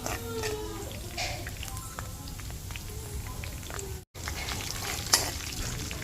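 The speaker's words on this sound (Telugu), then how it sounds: "ఆవాలు, తర్వాత జీలకర్ర వేసుకొని కొంచెం ఫ్రై చేసుకోవాలి." Mustard seeds and cumin fry in hot oil for a festival chickpea prasadam, giving a close, steady sizzle with a brief pause and a sharp crackling pop near the end.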